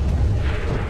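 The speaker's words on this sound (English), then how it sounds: "Launch the Acid Grenade." A low, rumbling explosion from an acid grenade in the video game XCOM 2, a short, loud boom that fills the moment and then rolls off.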